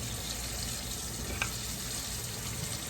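Seasoned tomatoes and bacon sizzle faintly in a pan, cooked alongside fried fish and cheese grits. The hiss is low and steady and runs without pause, with one small clink partway through.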